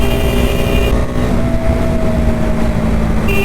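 Bajaj Dominar 250 motorcycle ridden at about 114 km/h on an open road, a loud steady engine drone with constant wind rush and a brief dip in tone partway through.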